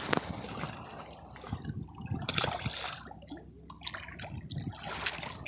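A small rainbow trout slipped back into the water gives soft splashes and trickling, close and faint, with a few sharp splashy bursts over quiet stream flow.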